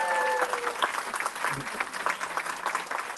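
A crowd at a school board meeting applauds steadily with dense clapping throughout, a brief tonal note fading at the start.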